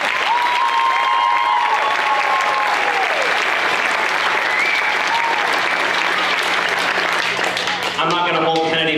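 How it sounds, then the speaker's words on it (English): Audience at a school fall band concert claps in a loud, sustained round of applause, with a few whistles and cheers riding on top and the clapping staying full for the whole stretch. "So give them another round of applause."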